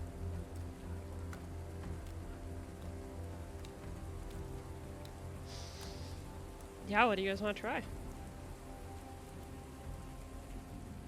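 Steady rain falls as a constant, fairly faint hiss while people talk over it. A brief musical or sung phrase rises partway through.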